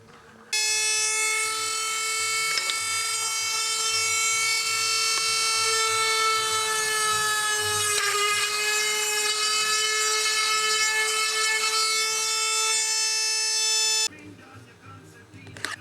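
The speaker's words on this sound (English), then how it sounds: "I need to punch a hole in there with a Dremel tool" Dremel rotary tool cutting a hole in a piece of scrap wood, a steady high-pitched whine with a slight dip in speed as it bites, running continuously for about thirteen seconds, close and loud.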